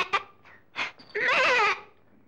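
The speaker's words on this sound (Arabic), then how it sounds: "قابلته معزة لطيفة ظريفة" A goat bleats close and clear: a few short cries, then one longer, wavering bleat, with nothing else around it.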